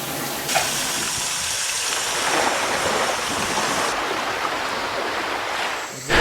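Water rushes steadily through a temporary pipeline feeding a borehole underground, a loud continuous gushing hiss with slight surges and a brief thump near the end.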